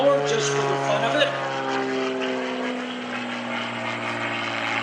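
A propeller airplane performs aerobatics at the 2012 Greenwood Lake Airshow, its engine droning loudly and steadily with a rising and falling pitch through a snap roll, while a commentator talks over it.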